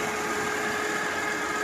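A Mitsubishi Adventure engine runs at a steady idle, with a constant even hum and a faint whine throughout, close and alone.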